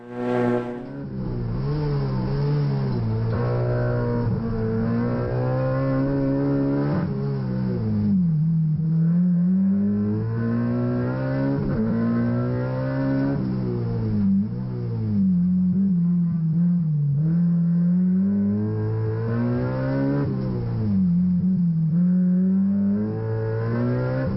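A Vauxhall Corsa rally car at Nutts Corner is driven hard, its engine revving loudly and continuously, pitch climbing and dropping through gear changes.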